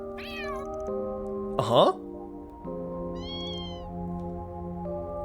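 Small kitten meows from the video game Trails through Daybreak 2, a couple of short high cries over soft ambient game music, with a brief voice murmuring in between.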